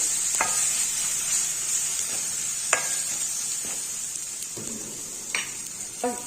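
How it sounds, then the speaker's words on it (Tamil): Spices, including coriander powder and a pinch of turmeric, sizzle steadily in a hot frying pan with a constant hiss, while a spoon scrapes and taps now and then as the mixture is stirred. "இதை நல்லா வதக்கிக்கலாம்"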